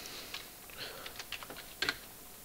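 Quiet, sparse keyboard typing: a handful of light, separate key taps spread unevenly, with one slightly louder cluster near the end, over a low steady room hiss.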